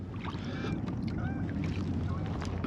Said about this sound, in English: I think this motor is a 1700 kV 3660